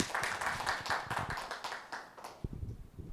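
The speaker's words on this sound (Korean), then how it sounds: "박수로 환영해 주십시오" Clapping from a workshop audience at the 2019 Korea Internet Governance Forum as a presenter comes up. The sparse, individual claps are fairly close and fade out after a couple of seconds.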